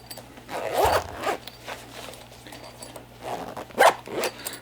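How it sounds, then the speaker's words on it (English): A zipper on a Craft Holsters holster for a Bersa TPR9C pistol is pulled closed in two quick bursts, close by, with a faint low hum in the background and no speech. "Zips closed."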